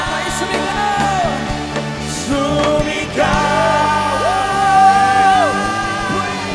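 A worship congregation shouts and whoops for joy, loud overlapping voices rising and falling over sustained music with tonal swells, crowd energy building toward the end.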